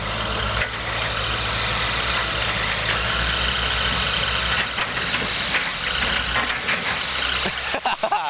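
A tractor engine idles nearby with a continuous low, throbbing rumble that stays steady throughout.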